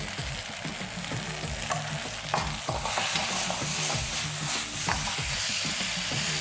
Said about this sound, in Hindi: अब मैं इसको सौते कर रहा हूँ